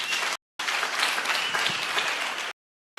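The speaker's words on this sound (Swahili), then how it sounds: "Tumpigeni makofi jameni." A crowd at a Kenyan political gathering bursts into loud, dense applause. It comes in two bursts, broken by a short silence and cut off abruptly at the end.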